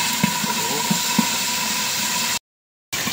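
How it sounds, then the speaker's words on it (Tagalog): Hot oil sizzles with a steady hiss as milkfish fries, punctuated by several small pops and crackles at irregular intervals, then a brief silence. "Ayun, naputok na yung prito."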